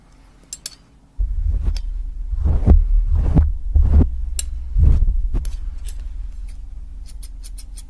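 Electric hair clippers, the modern kind used in place of scissors at a hair salon, hum in a steady close-up buzz that starts abruptly and swells and fades as they move, with no talking.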